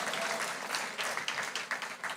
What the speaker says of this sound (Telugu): నమ్మితే చప్పట్లు కొట్టి దేవుని మహిమపరచు గట్టిగా